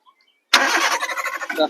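After a moment of silence, a 2007 Maruti Wagon R engine cranks on its self-starter and catches on the first try, settling into a rough, rhythmic idle close by.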